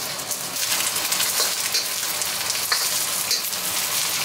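Pork pieces frying in caramelized sugar in a wok, giving a dense, steady sizzle that fills the whole stretch, with faint stirring scrapes, close and even.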